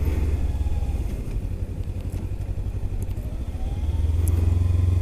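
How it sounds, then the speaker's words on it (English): A 300cc motorcycle engine drones steadily throughout from the rider's position, with a low throbbing exhaust note, wind rumble, and a slight dip and swell in revs as the bike rolls through town. "from my experience of riding around on a 300 like I am"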